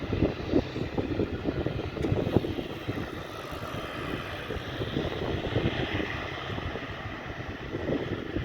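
An airplane at London City Airport makes a steady, broad engine roar mixed with wind buffeting on the microphone, continuous and fairly loud throughout.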